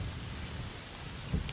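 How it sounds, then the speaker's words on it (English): Steady rain falling in the Assetto Corsa racing game, a continuous low wash of drops at a constant level with a brief dull thump near the end, no voices. "2 minutes in your game, it could start raining on you."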